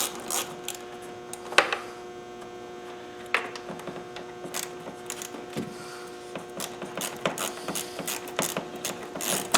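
An 8mm socket on a ratchet turns coil pack bolts on a 2009 Nissan Versa 1.6, making rapid close clicking bursts over a steady background hum.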